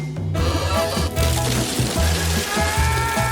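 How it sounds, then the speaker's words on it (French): Skittles candy pours down in a dense rattling shower, many small hard pieces pattering continuously onto a surface at close range, steady and loud with a brief lull near the start. "Oh, la pluie des Skittles"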